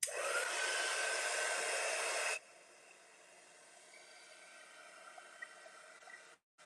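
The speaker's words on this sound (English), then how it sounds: "Let me just use my tool gun and just a little bit and dry them a little better." A heat gun drying paint blows a loud, steady hiss for about two seconds, then switches off, leaving faint background noise.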